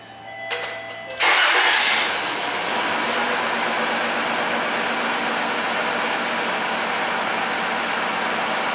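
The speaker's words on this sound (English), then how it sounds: "Let's restart the car." A car engine cranks and catches after a short pause, then settles into a steady, loud, close idle that runs without a break while someone works under the intake checking cylinders.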